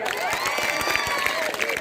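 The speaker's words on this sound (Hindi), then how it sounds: "दीपक के लिए जोरदार तालियां" A school audience at a government senior secondary school in Lesarda, Keshoraipatan, applauds loudly. The clapping is dense and continuous, close by, with some cheering voices mixed in throughout.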